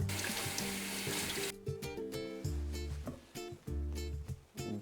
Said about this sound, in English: Now we drain the vermicelli and run it under cold water.